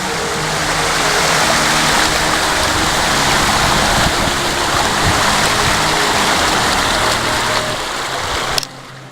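A river streams past in a loud, steady broadband rush that fills the whole stretch, close by, then cuts off abruptly near the end.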